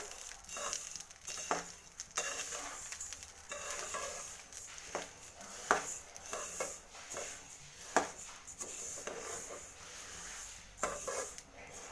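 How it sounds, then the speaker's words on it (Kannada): Sesame seeds roasting in ghee in a pan over a low flame for a Coorg ellu menthe recipe, with soft sizzling under repeated scraping and stirring clinks of a utensil against the pan. "ಇದರಲ್ಲಿ ಇವಾಗ ಎಳ್ಳನ್ನು ಹುರ್ಕೋತೀನಿ"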